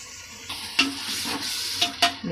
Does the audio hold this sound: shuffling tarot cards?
no